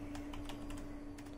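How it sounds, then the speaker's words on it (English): Keys clatter on a computer keyboard as a command is typed on a Raspberry Pi 3 Model B running Android TV, several quick faint clicks in a short burst over a steady electrical hum, with no voice. "Now let's just go ahead and reboot the machine by typing the command"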